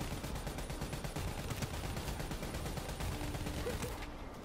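Dense, sustained gunfire in Call of Duty Black Ops 3, loud rapid shots rattling continuously with no pause, tapering slightly at the very end.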